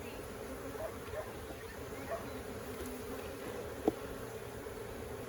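Honeybees hum steadily around a hive that has calmed after a new queen replaced an aggressive colony, a faint continuous drone at moderate distance with one brief sharp knock midway.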